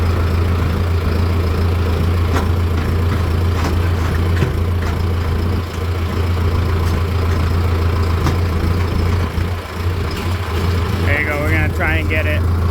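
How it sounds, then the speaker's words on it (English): A John Deere 6430 tractor engine idles steadily with a deep, constant low rumble while it backs up slowly, with intermittent knocks and clanks over the top. "I think I'm gonna have to back up the tractor just a little bit to get it to sit in the grooves."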